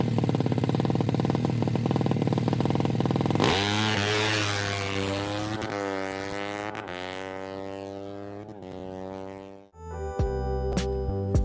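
A Honda Karisma 125 motorcycle engine, close and loud, revs repeatedly. The pitch rises and falls in strong surges, then a brief drop is followed by sharp, choppy bursts near the end.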